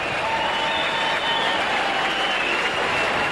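Rugby league crowd in the main stand at Widnes applauding a kick from the touchline, a dense, continuous roar of clapping and cheering with no speech.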